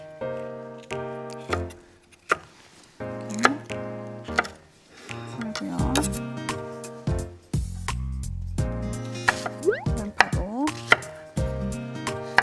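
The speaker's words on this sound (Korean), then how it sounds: "이것들을 다 이제 재료로 썰어서 접시에 담을게요" A knife chops vegetables, including onion, steadily on a board, sharp taps in uneven bursts with background sizzle and clatter, no talk.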